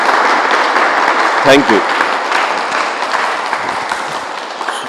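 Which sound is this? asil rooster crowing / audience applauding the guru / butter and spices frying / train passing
audience applauding the guru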